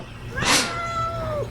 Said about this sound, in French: Chaque live, il y a le chat.